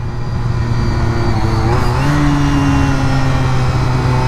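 A Honda RVF400 sports motorcycle pulls out of a corner, its engine droning loud and steady before the pitch steps up as it accelerates, with continuous wind rush throughout.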